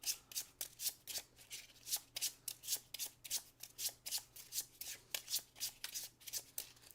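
A deck of cards is riffled and shuffled repeatedly by hand at a tabletop board game, quick crisp rippling bursts in a steady rhythm, close and fairly quiet, with no voices.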